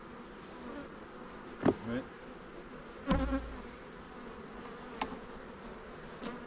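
Honey bees buzz around an open hive infested with hive beetles, a steady faint drone with a few brief louder passes of individual bees near the microphone, and one short spoken word.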